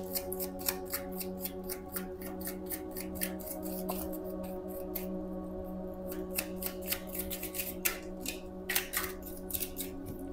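An oracle card deck being shuffled by hand gives a string of quick, light papery snaps and riffles in irregular bursts, close, over a steady background hum.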